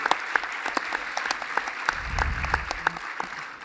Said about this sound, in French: j'aimerais qu'on l'applaudisse aussi